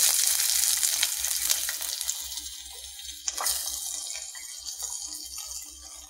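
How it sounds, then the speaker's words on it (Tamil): Shallots fry in hot oil with spluttered cumin seeds for a Tamil keerai masiyal, a broad continuous sizzle with scattered crackles that gradually softens, heard close and alone. "சீரகம் நல்லா பொரிஞ்சிடுச்சு சின்ன வெங்காயம்"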